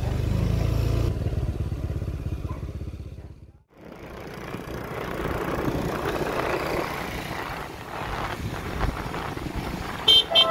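A motorcycle engine rumbles close by during flooding in a city, fading briefly before traffic noise returns, with short horn toots near the end.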